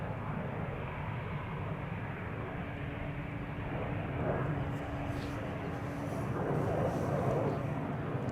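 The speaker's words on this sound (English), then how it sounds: "United will be taking off from the threshold" A United Airlines jet taking off from the threshold at Amsterdam Schiphol Airport makes a steady, broad engine roar heard from a distance, swelling slightly louder toward the end.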